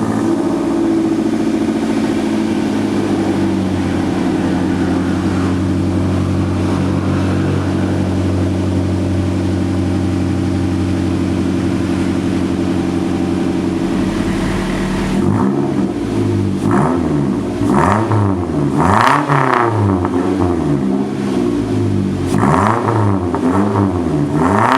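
A Perodua Myvi fitted with a 4-2-1 extractor exhaust idles steadily and loudly up close, then gets several quick revs that rise and fall in succession.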